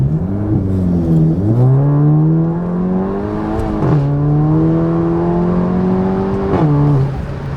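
Volkswagen GTI MK7 with a big APR turbo on a full-throttle pull, engine droning loudly and rising in pitch through several gear changes, each shift marked by a brief dip before the climb resumes.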